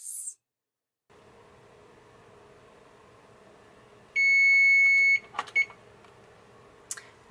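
A kitchen timer sounds one sustained electronic beep for about a second, followed by a few brief clicks and knocks in an otherwise quiet kitchen with low background hum.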